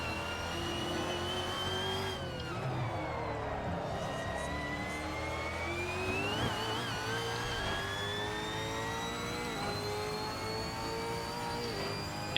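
A steady, droning race car engine from the car ahead during an endurance race at Sandown hums continuously at a distance, its pitch slowly rising and wavering, heard alone without voices.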